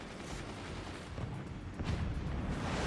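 Cannon fire in the Forts artillery strategy game during a world championship match: continuous rumbling booms and blasts, a dense barrage that swells louder in the final second.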